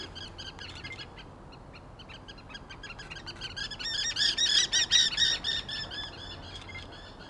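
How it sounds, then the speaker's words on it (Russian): A crow caws outdoors, first a few faint calls, then a run of about six loud, harsh, evenly spaced caws before it fades. "Более того, ворона тоже есть."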